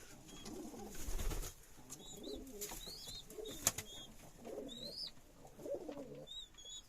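Pigeons coo softly and repeatedly inside a coop, with a few higher chirps and faint rustling in between.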